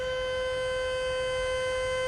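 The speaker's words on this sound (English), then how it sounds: "that siren tells us that a fifth floodgate has now opened to relieve the pressure from upriver" A steady dam floodgate warning siren at Max Starcke Dam wails at a single constant pitch, loud and continuous, as a fifth floodgate opens during flooding, with a low rumble of rushing water beneath it.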